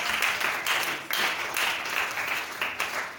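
A church congregation applauding: steady, close, lively clapping from many hands runs without a break for a few seconds.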